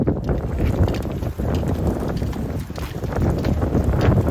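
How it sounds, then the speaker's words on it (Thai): Strong wind gusting across an open golf course in cold weather, a loud, steady roar of buffeting air against the microphone throughout with no voices. "ลมแรงมากเลยเพื่อน ลมแรงจริงๆ"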